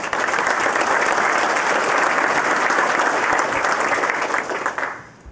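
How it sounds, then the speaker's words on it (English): A town hall crowd at a Save Our Schools meeting in Twin Falls claps loudly and steadily in a dense, sustained round of applause that tapers off at the very end. "we need to give you guys a round of applause"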